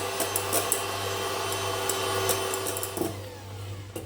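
An electric mixer whisks room-temperature eggs for tiramisu, giving a steady, close whirring hum with a constant low drone and occasional brief rattles of the beaters against the bowl, with no talk.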